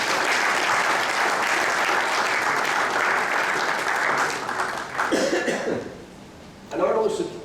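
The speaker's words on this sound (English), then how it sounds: "So please stand up, gents, and take a few rounds of applause." An audience at a gymnastics world championship gives a sustained round of applause welcoming new judges, steady and full for several seconds, then tapering with scattered coughs and murmurs and a brief final swell.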